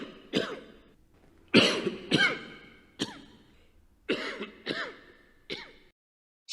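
A man coughing during a CCTV live broadcast: a run of about seven sharp, close coughs and throat clearings, spaced roughly a second apart, with quiet gaps and no talking.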